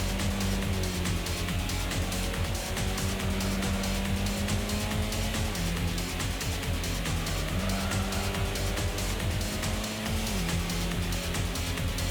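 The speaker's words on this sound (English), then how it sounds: "The legendary Honda Civic that so far seems to be going well" Honda Civic racing engine in Gran Turismo, a steady droning whine with repeated upshifts and pitch steps, tire squeal and other engine noise mixed in, continuous and fairly loud with no talk.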